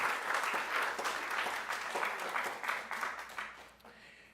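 A congregation at a Unitarian Universalist worship service applauds, a close, steady wash of clapping that holds for several seconds and then trails off.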